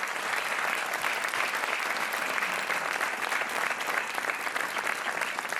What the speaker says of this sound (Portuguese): Um aplauso para a Aldina Costa.